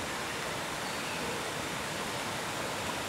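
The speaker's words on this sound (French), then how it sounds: "Plusieurs cascades agrémentent ce torrent de montagne" Waterfall on the Grosse Corde mountain torrent in Guadeloupe, a dense, steady roar of falling water that fills the whole sound without break or variation.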